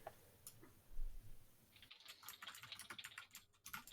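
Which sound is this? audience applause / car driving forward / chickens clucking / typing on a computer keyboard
typing on a computer keyboard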